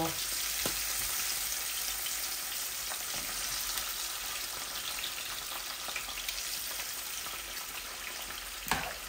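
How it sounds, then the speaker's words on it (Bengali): Soft fish frying in oil in a frying pan gives a continuous close crackling sizzle throughout, with an occasional clink of a utensil and no talking. "আমি একটা ফ্রাই প্যান বসাইছি আর একটাতে মাছ ভাজি করতেছি।"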